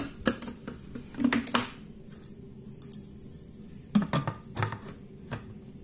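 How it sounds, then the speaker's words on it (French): A lid going onto a Monsieur Cuisine Plus food processor while pizza dough is being prepared, a series of close plastic clacks and clicks in two short clusters with quiet pauses between them. "On va mettre le couvercle."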